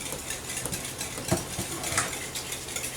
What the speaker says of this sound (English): And then we'll come in here with our whisk and we'll just stir that up.